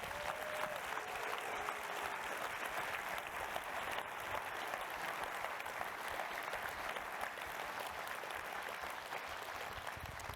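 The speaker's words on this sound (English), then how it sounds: "Let's give them another round of hearty applause" An audience applauding the 2019 AGU fellows at an honors tribute ceremony, sustained even clapping from a large hall heard at a moderate distance, fairly soft and unbroken throughout.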